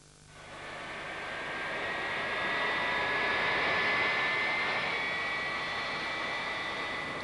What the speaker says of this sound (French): Voilà votre avion.